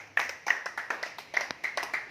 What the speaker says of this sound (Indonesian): tepuk tangan Bapak-bapak Ibu